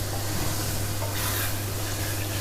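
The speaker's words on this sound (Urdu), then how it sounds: "اس کو اچھے طرح بھون لیتے ہیں ذرا" Chana pulao masala frying and being stirred in a pot, a steady close sizzle with soft scraping and rustling that swells briefly midway, no voices present.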